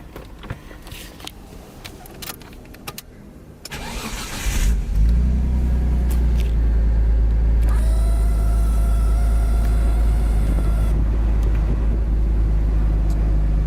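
Clicks and a brief crank lead into a Nissan R32 Skyline engine catching, then a loud, steady idle rumbles on close by.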